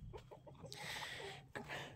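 Chickens in a coop at night, heard alongside turkeys, ducks and guinea fowl, give short clucks and a rougher squawk, close but faint, with low rustling.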